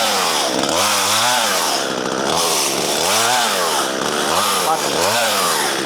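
A chainsaw with a freshly sharpened chain roars close up in a forest, its engine pitch rising and falling in repeated cycles as it bites through wood.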